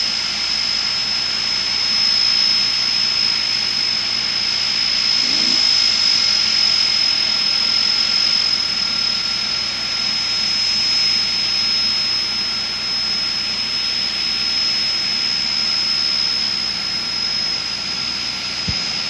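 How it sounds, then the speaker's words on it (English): Jet dragster turbine engines idle at London Motorsports Park drag strip during a 1992 Labour Day event, a loud, steady high-pitched whine riding over continuous roaring rumble with no break. "You can hear the turbines whining as they get ready to go."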